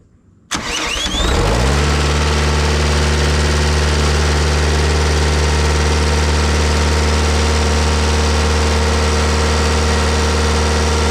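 Bobcat T190 skid steer engine cranks briefly and catches, then settles into a loud, steady diesel idle that runs unbroken for about ten seconds, close by with no talk.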